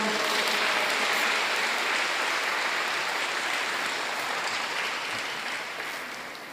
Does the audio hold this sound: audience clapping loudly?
yes